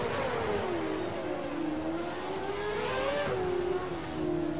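A Formula 1 racing car in a video game at the Belgium race roars continuously, its engine pitch sweeping down, climbing and dipping again through gear changes, loud and close with no talking.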